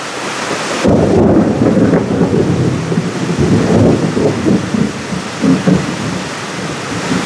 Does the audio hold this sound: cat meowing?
no